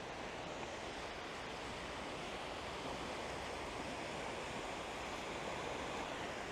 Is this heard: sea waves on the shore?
yes